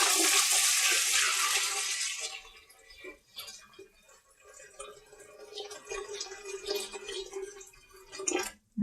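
Hot water rushes from a tap into an All American pressure canner for home canning potatoes, a loud steady pour for about two seconds, then quieter splashes and clinks until a sharp knock near the end.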